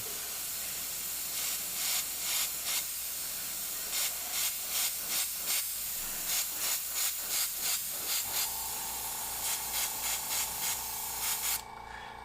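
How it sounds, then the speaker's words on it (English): Airbrush spraying lime green paint onto a miniature, heard as a steady airy hiss with a series of short, regular spray bursts, close and fairly quiet, ending in a faint constant hum. "the directional flow of the airbrush is going to pick up all the high spots"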